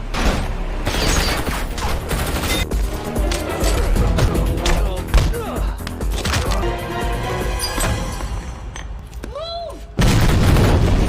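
Gunshots and crashing impacts crackle through a heist film's fight scene, a sustained chaotic barrage of bangs and thuds with a sharper burst near the end and faint voices underneath.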